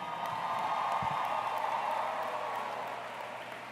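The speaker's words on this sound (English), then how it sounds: "Can we get another round of applause for our speakers" Steady crowd applause at a high school graduation filling the whole stretch, a dense wash of clapping with a few faint cheers, fading slightly toward the end.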